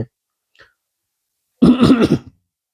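A single throaty clearing cough, short and close, after a brief faint sound and otherwise silence.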